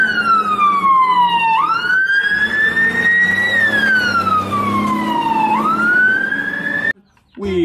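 A toy fire truck's electronic siren wails up and down in long sweeping cycles, loud and close, then stops suddenly near the end.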